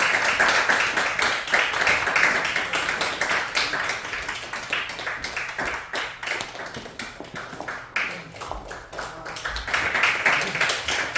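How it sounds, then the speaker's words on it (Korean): A church congregation claps steadily through a Sunday service, a dense and continuous round of applause with brief swells and no talking. "박수를 좀 쳐주세요"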